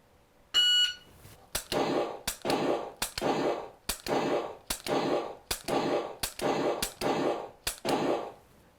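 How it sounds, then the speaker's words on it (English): A LASR X shot timer gives one short, high electronic start beep, followed after a brief pause by about ten sharp, evenly spaced shot reports, loud and close, with no talking. "I will hear the beep because I remember I programmed it to start off with a beep"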